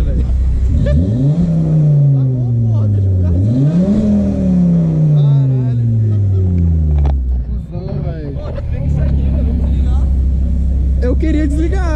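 Volvo C30 engine revved repeatedly, rising and falling in pitch through several throttle blips before settling to a rumbling idle, with people talking over it throughout.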